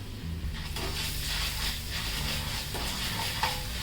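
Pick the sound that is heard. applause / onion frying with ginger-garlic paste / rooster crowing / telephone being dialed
onion frying with ginger-garlic paste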